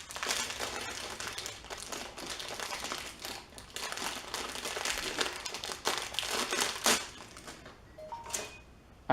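Plastic packaging crinkles and crackles as a BlackBerry Leap power adapter is unwrapped, in a series of close, uneven rustling bursts with short pauses.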